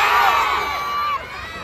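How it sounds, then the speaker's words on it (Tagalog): A crowd of supporters for Isko Moreno shouts and cheers in Paco, Manila, a dense outdoor roar of many voices with a few high shouts rising above, loud and continuous. "May sumisigaw na,"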